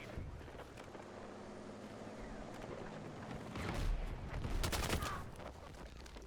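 In Battlefield 6 Conquest on the Sobek City map, a tank fires nearby amid a rumbling battlefield soundscape, with heavy booming blasts and crackling gunfire swelling over a continuous low engine and combat din.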